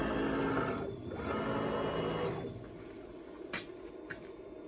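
A CNC machine moves its axis 200 millimetres, a buzzing stepper-motor drone that rises and falls in pitch and then stops, followed by a few sharp clicks.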